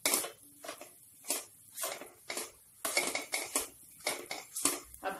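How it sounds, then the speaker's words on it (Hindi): Metal spoon scraping and clanking against a pan while salt is stirred into okra, repeated bursts of stirring at a steady rhythm, close and clear with no talk. "नमक को हम अच्छे से मिक्स कर लेंगे।"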